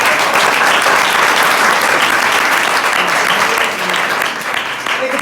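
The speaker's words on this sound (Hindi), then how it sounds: "जीसस ने और खुदा के जलाल की जोरदार तालियां" A church congregation at a sermon bursts into loud, sustained applause, a dense wash of many hands clapping together that dips slightly near the end, with some voices mixed in underneath.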